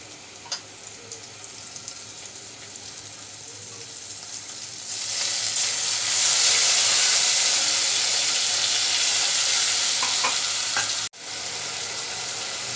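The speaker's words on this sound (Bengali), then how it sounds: "এবার দিয়ে দিচ্ছি আমি এখানে দুই চামচ লাল মরিচের গুঁড়া এক চামচ হলুদের গুঁড়া আর পরিমাণ মতো লবণ দিয়ে পেস্ট করে রেখেছিলাম" Red chili powder, turmeric and salt paste frying in hot oil, a steady sizzle that swells sharply and loudly midway with stirring, then cuts briefly before sizzling on.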